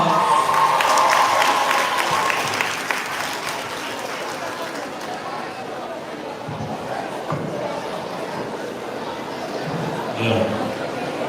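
Applause from an audience at a high school graduation and valedictory ceremony, loudest at the start and then thinning into scattered clapping and crowd chatter, with a person speaking over part of it.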